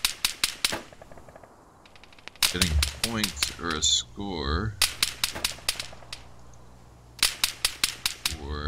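Video game gunfire rattles in rapid bursts of sharp synthetic shots, with whooshing sweeps and electronic effects in between, loud and close while someone talks over part of it.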